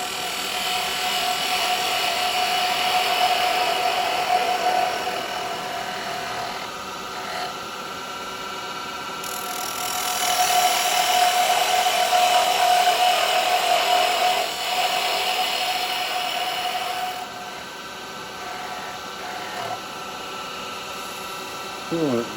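A carbide chisel scrapes the bottom of a resin bell spinning on a lathe, producing a continuous rough rasping hum with a steady motor whine that swells and eases over a long stretch.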